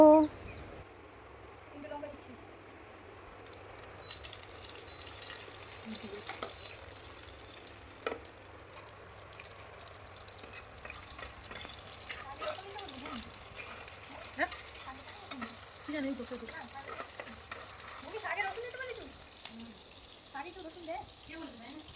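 Food sizzles and is stirred in a wok, a low, uneven frying crackle running throughout with occasional scrapes, while voices murmur faintly in the background.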